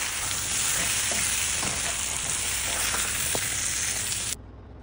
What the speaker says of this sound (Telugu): ఆనియన్స్ ఇలా కంప్లీట్గా ఫ్రై అయ్యాక మనం టమాటోస్ని యాడ్ చేసుకుందాం.